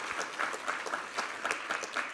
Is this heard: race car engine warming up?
no